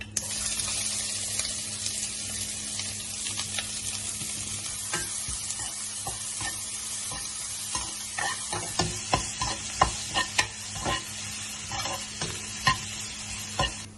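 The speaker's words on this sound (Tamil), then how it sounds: "இப்ப நம்ம வெட்டி வச்சிருக்க வெங்காயத்தையும் சேர்த்துக்கலாம்." Chopped onions go into a pan of hot oil with cardamom and curry leaves for a vegetable kuruma, producing a steady close sizzle, with stirring scrapes and clinks growing busier toward the end and no talking.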